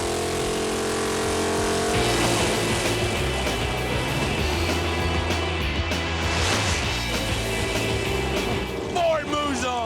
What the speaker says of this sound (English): This next one coming up is going to be the biggest race I've ever been in. The 64 Ford Falcon, 472 cubic inches.